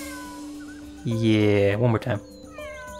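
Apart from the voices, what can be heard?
cat meowing in video game Suikoden V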